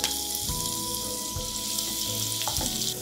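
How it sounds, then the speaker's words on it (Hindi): Chopped onion, cumin and green chili fry in hot oil in a kadhai, a loud close sizzle with stirring scrapes and a few clanks of the spoon against the pan. "प्याज को हम गोल्डन ब्राउन होने तक अच्छे से भून लेंगे"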